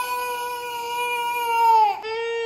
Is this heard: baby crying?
yes